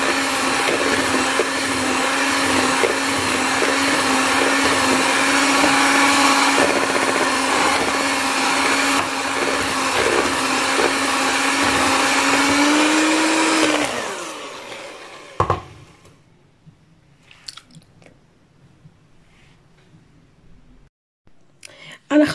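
An electric mixer with a wire whisk whips cream with vanilla and gelatin, a loud steady high whir running continuously for about fourteen seconds before cutting off, followed by faint clinks and near silence.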